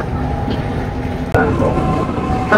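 A Mumbai Metro train runs at full speed, giving a loud, steady rumble from inside the carriage with a sudden clunk partway through and faint voices underneath.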